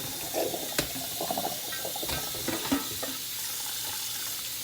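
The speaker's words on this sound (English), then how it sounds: "You want to wash your fish real good." Running water washing a fish for Jamaican brown stew fish, a steady close rushing hiss with soft splashes and handling knocks throughout.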